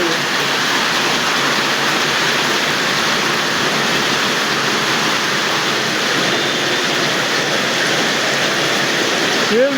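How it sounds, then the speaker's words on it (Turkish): Heavy downpour and flash flood water in Bursa rush in a loud, continuous roaring wash, close and unbroken, with a faint voice at the very end. "Sel gidiyor resmen ya."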